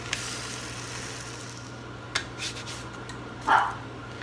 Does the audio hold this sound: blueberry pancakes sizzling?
yes